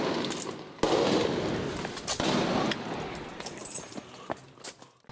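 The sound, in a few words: gunshots at night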